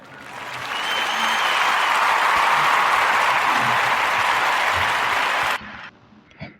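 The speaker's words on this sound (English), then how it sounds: "So we're going to give Nicholas a round of applause" A room full of people claps steadily for several seconds in a warm, dense round of applause that swells in, holds, then cuts off abruptly, leaving a brief quiet tail.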